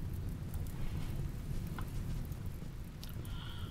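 Steady rain falling in the Rimworld colony-building video game, a constant broadband hiss filling the short scene with no speech over it.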